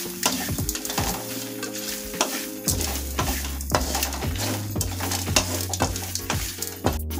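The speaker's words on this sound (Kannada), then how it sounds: "ತೆಂಗಿನಕಾಯಿ ಹುರಿದ್ರೆ ರುಚಿ ಜಾಸ್ತಿ, ಅದಕ್ಕೋಸ್ಕರ ಹುರಿಯೋದು." Grated coconut roasting in a pan for a potato and chickpea curry, with a spatula scraping and stirring in repeated strokes over a steady dry sizzle.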